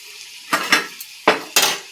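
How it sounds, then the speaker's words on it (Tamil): Sautéed radish tipped into a pan for an egg and radish poriyal, giving several sharp clattering thuds and scrapes of food and utensil against the pan, close and fairly loud, with quiet pauses between them. "வதக்கி வச்சுக்கிற முள்ளங்கி எடுத்து இதில் போட்டுக்கலாம்."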